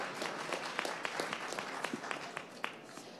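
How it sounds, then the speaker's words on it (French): An audience applauds speakers as they take the stage at a pitch-marathon event. Continuous, moderately distant clapping with scattered sharper individual claps runs throughout, and no voices are heard. "C'est parti, on accueille Praline et Priap sur la scène du Marathon Pitch. On l'applaudit."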